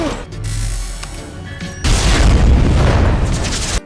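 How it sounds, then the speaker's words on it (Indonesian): A big explosion from the 2017 film Baywatch booms out loud and close, its heavy low rumble and crash following a rough burst of noise and lingering for several seconds with no voices. "Ledakan hebat pun terjadi dan Victory pun telah binasa"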